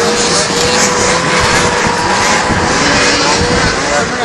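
Snowmobiles roar off the start of a snowcross championship race, a dense, loud, continuous engine drone with no break, as one rider pull-starts his sled and chases the pack.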